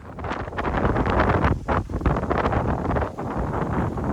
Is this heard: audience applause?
no